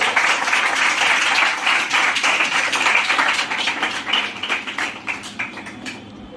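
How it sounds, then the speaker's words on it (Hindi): Audience applause and clapping at a Class 8 school farewell: dense, lively clapping from many hands, loud and sustained, then thinning into scattered, uneven claps toward the end. "इस पर ताली बजा दीजिए"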